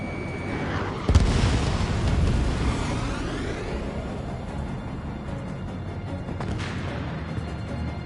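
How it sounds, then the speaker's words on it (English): In the flight game Ace Combat, a missile launches with a sudden whooshing burst over constant jet-engine roar, and a second sharp blast follows several seconds later amid the steady rumbling noise. "Missile away."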